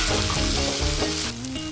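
Tomatoes, onions and dried chillies sauté in a pan for a homemade chicken dish. A loud, close sizzle carries on with rhythmic stirring, and no one speaks.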